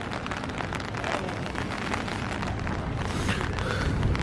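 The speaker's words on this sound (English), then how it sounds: "Sorry for the sound, it is definitely raining out here." Steady heavy rain falls outdoors at the Phipps Conservatory on a winter evening, a dense close hiss filling the whole stretch with no breaks.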